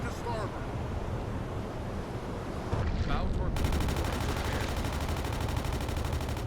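Gunfire at an aircraft in the UBoat submarine game crackles as rapid continuous automatic fire over a roaring sea-and-wind background, starting partway through and holding steady at close range.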